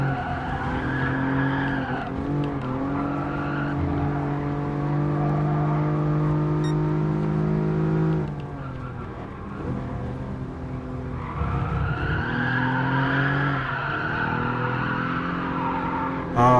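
A Toyota Crown Athlete G', a front-engine rear-drive car in Gran Turismo Sport, races with a loud, sustained engine drone that rises and drops through gear changes, and tire squeal through the corners, with no talking.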